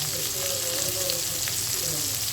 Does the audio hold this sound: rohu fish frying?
yes